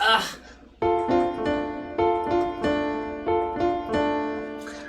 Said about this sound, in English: So you're having like two melodies going on at the same time.